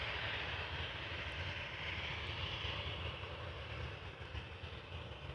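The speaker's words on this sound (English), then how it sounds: "there are airplanes taking off from center" Airplanes take off from a runway at Amsterdam Schiphol Airport, a steady, distant jet roar that holds at an even level throughout, with no voices.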